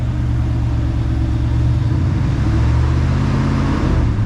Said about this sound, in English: Y'all, this old car is running